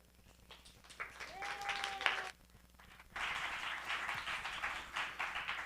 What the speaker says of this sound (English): to the group who are applauding and yelling out